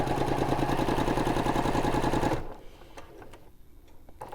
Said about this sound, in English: We're going to sew the direction the pin is in from corner to corner